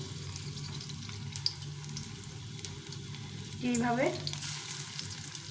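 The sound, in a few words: frying fish-oil fritters in a pan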